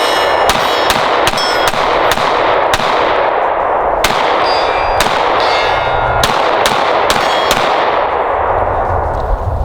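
Pistol shots from a Smith & Wesson or Sig Sauer ring out against steel targets outdoors, a series of sharp, loud cracks each followed by a metallic clang, fired at an uneven pace.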